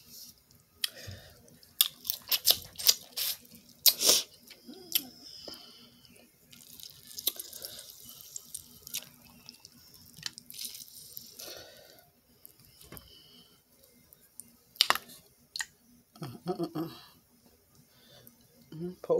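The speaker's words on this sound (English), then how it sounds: "Pour my sauce." Melted butter sauce is poured over shrimp in a seafood meal, giving wet drips and splashes with scattered sticky, squelching noises and bursts of chewing, spread unevenly across a fairly quiet stretch.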